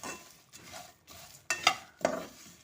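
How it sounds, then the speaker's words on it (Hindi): Whole spices for korma masala are dry-roasted in a pan with a spoon stirring in short, uneven scraping strokes that are close and moderately loud, with no talk. "1 आधा मिनट हम ऐसे ही इसे भूनेंगे।"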